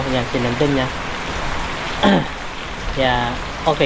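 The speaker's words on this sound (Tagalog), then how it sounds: "medyo tumila na yung ulan" Steady rain falls throughout, a constant hiss on surfaces beneath someone talking in Filipino at close range.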